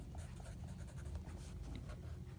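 A pen scratches steadily on paper while times are written out, a soft, close, continuous scribbling with no voices.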